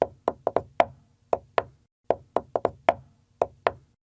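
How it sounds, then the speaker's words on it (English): Knocking on a wall in a dark room, a series of sharp, close knocks in irregular clusters of two and three, fairly loud and insistent against a quiet background. "The knocking was now becoming louder and rather insistent."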